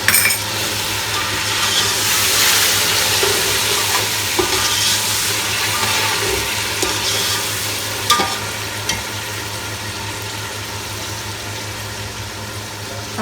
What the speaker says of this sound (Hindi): अब इसमें थोड़ा सा पानी डालूँगी ताकि मसाला अच्छी तरह भून जाए